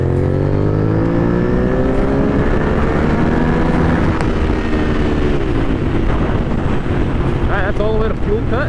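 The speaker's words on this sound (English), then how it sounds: "I'm going to do another second gear pull like before, and hopefully we can see how much better it does" A Honda Superhawk 996 (VTR1000F) V-twin motorcycle pulling hard in second gear, engine note climbing steadily under heavy wind rush, loud and continuous, with a faint voice briefly under the noise.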